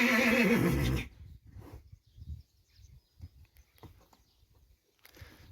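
A draft stallion gives one loud, close whinny lasting about a second, followed by soft hoof thuds and scattered shuffling noises.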